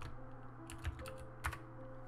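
Keystrokes on a computer keyboard while entering router configuration commands, a few soft clicks scattered over a steady background hum with two louder taps standing out.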